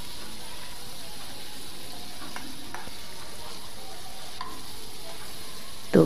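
Bok fish (kaikka) pieces being stir-fried in spicy masala oil over medium heat, a steady soft sizzle with faint scraping stirs, ending in a brief louder clatter.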